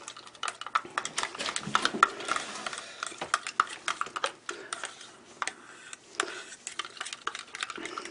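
A spatula stirs dry acrylic pigment into paint, giving soft, irregular scraping and clicking taps close up at a quiet level, scattered steadily throughout.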